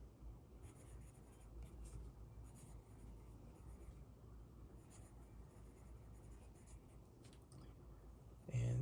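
Gesture drawing sketched on paper, with steady scratchy strokes of varying pace running throughout, close and fairly quiet.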